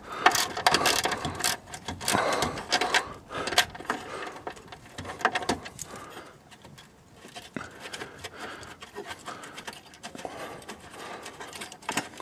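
A Torx 30 bolt on the fuel filter support of a Renault Scénic 2 is worked loose, giving bursts of quick ratchet clicks and tool taps close by, with quieter pauses and scraping between them.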